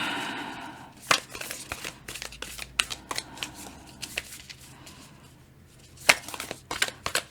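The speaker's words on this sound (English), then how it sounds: "This deck's a little hard to shuffle sometimes." A tarot card deck is shuffled by hand in bursts of crisp riffling clicks and slaps, loud and close, with short gaps between rounds.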